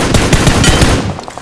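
Rapid automatic gunfire in the mobile battle-royale game PUBG Mobile during a close fight ending in a headshot, a loud burst of closely spaced shots that tapers off near the end.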